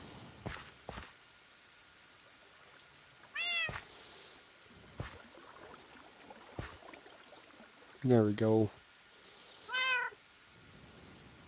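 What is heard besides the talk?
cat meowing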